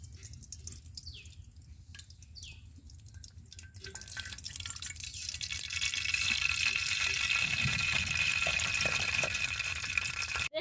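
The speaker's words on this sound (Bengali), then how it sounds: "তো এখন আমি দিয়ে দিচ্ছি সরিষার তেল।" Mustard oil heating in a pan, a faint hiss that swells into a steadier, louder sizzle over several seconds, with a few soft clinks near the start.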